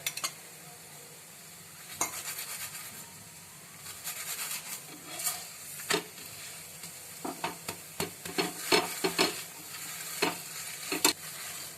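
Thepla flatbread cooking with oil on a pan, giving a steady low sizzle with intermittent scraping and turning clicks from a spatula that grow busier toward the end, close up with no talking.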